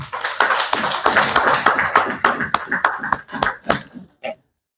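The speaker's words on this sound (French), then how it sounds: "demander si nous ne pouvons pas nous applaudir pour ça." Meeting participants applaud together at a project validation gathering, a dense burst of close clapping that thins out into a few scattered claps before stopping.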